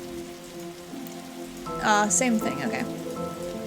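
Steady rain drums on a police squad car in the game The Darkside Detective, a continuous patter under background music, with people talking briefly near the end.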